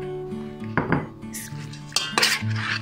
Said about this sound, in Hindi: चिकन को बड़े बाउल में डालेंगे